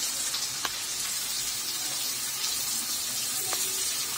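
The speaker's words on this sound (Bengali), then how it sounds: "এবার আমরা এতে রসুন পেঁয়াজ দিয়ে দিই।" Garlic and onion sizzling with fried chicken in a pan while cooking chilli chicken, a steady bright hiss of frying with a few brief pops and clinks, continuous and close, no speech.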